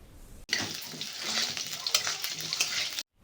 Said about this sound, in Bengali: তো প্রথমে আলুগুলোকে ভেজে নিতে হবে।